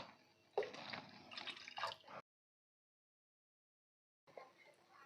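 Water is poured into a pot of simple tomato rasam (tomato charu) during cooking, a close, steady splashing that runs for about two seconds and then stops, leaving near silence before a quieter pour-like wash returns.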